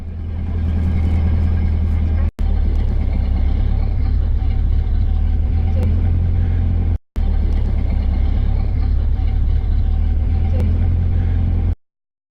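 A vintage Model A Ford on the road, its engine rumbling loud and steady from up close with constant low drone and road noise. Two brief dropouts break the sound before it ends abruptly.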